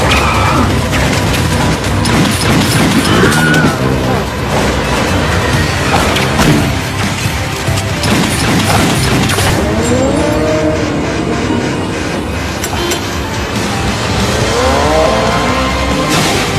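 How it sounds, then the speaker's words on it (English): A car in a movie heist scene accelerating through an entrance amid gunfire, with loud continuous engine roar, squealing tires and crash-like bursts under a dense, busy soundtrack. "She then accelerated through the entrance."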